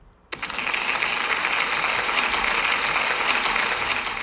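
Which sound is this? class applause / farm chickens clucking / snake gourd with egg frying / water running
class applause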